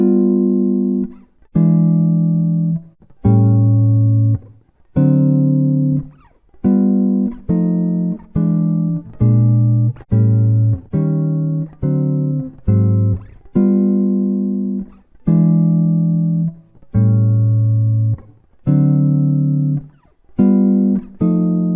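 A jazz guitar plays a turnaround of walking chords and bass: clear, close, rhythmic chord stabs over moving low notes, with short gaps between them and no voice.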